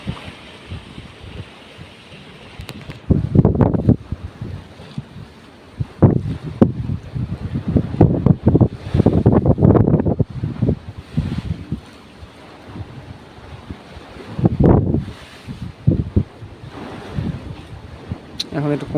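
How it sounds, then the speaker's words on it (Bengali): Stormy wind and crashing waves roar around a sand-carrying ship caught in a nor'wester squall, gusts buffeting the microphone in loud surges while waves slap against the hull. "এই দেখুন কি তুফানের মধ্যে"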